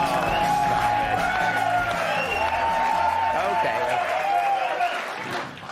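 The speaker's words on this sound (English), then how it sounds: "Are you clapping for me" A television studio audience applauds and cheers, a dense, continuous burst of clapping with scattered whoops that fades toward the end.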